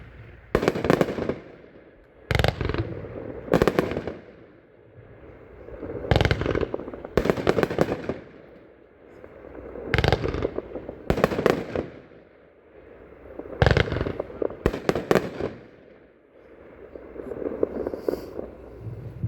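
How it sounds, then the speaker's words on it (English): The America's Finest red, white and blue firework cake, 25 shots, fires a long run of sharp bursts at uneven intervals, each boom trailing off into a rumble and crackle, heard outdoors at some distance. "one of our best red, white, blue cakes"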